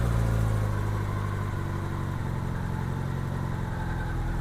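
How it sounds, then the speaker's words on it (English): A 1987 Honda GL1200 Goldwing's engine idles steadily while its carburetors are synchronized, a continuous low, even rumble that sits close and fairly loud, its pitch dropping slightly partway through as the revs come down. "Now my RPM is up too high, so I'm going to lower my RPM."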